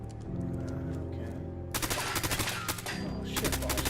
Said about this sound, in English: heard some gunshots over here.